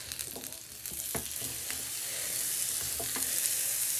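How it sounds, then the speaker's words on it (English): Onions sautéing in olive oil in a pan, a steady close sizzle with a few soft clicks and stirring scrapes, growing slightly louder toward the end. "I'm just going to put a little bit of olive oil on this side so I can cook the onions"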